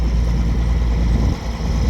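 A boat's pump drains bilge water through two hoses, giving a steady, loud mechanical drone with a constant low rumble and no talk.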